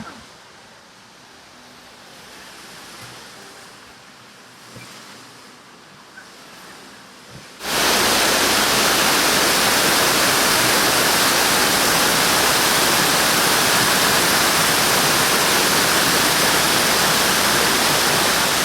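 Waterfall at a pirate-themed mini golf course: after a quiet stretch of faint outdoor ambience, a loud, steady broadband rush of falling water kicks in abruptly and roars on without a break.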